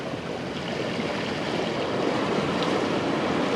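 Ocean swell washes against coastal rocks in Cornwall, a continuous broad rushing roar that builds slightly, with some wind buffeting the microphone and no voices.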